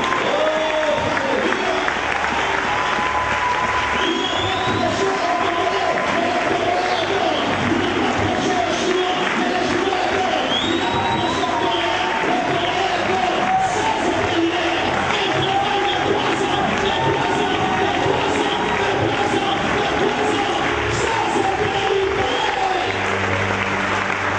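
Church congregation loudly applauding and cheering in acclamation of Jesus, a continuous wall of clapping and shouts that stays strong and unbroken the whole time, with a voice calling out over it.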